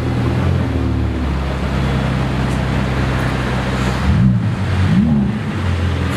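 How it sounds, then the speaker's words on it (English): A Novitec-tuned Ferrari F8 Tributo rumbles loudly nearby in a steady drone, with two quick throttle blips toward the end and no talking. "Full Novitec F8 Tributo."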